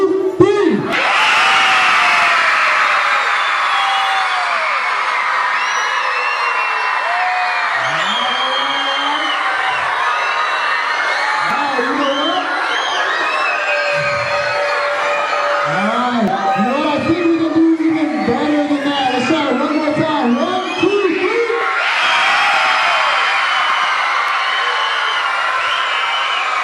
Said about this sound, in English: I want all of you to rock this place with your loudest cheer